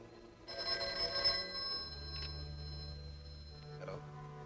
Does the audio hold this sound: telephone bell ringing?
yes